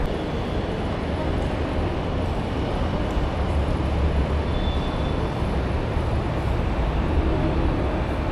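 Steady, loud rumble and roar of a Bengaluru metro train in motion near Majestic station, heard from inside a carriage as a continuous drone with no one speaking.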